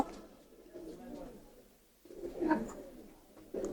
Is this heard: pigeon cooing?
yes